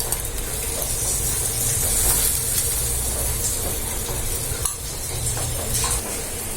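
Ghee sizzles steadily on a masala dosa spread across a hot griddle, a constant bright hiss with light scraping and stirring sounds mixed in, heard up close without talk.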